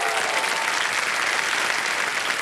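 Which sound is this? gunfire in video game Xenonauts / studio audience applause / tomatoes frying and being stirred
studio audience applause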